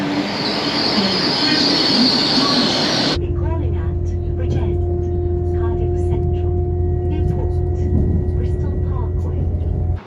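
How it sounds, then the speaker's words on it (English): Train journey toward Bristol, a loud steady rumble of rail wheels with squealing and rhythmic clatter from inside the carriage, a brighter noisy burst at the start, then a low continuous drone with faint clicks. "I'm about to get on the train and head to Bristol"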